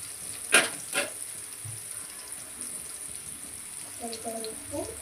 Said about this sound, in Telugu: ఉల్లిపాయలు బాగా వేగడానికి